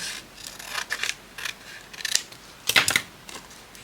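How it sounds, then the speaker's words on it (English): Scissors snip a bendy strip of paper, a series of close, crisp cuts and rustles in uneven bursts, a louder pair of snips near the end, with no talking. "I'm going to have to cut that little bendy bit off because we don't want it bending"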